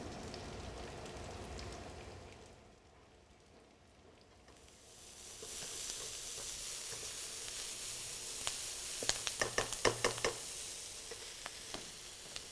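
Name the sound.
onions sautéing in a little oil for stuffing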